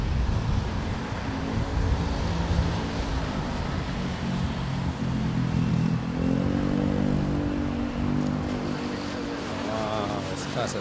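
A propeller airplane at Manila Airport, a steady loud engine drone that holds throughout and rises with a shifting pitch toward the end, with people talking over it.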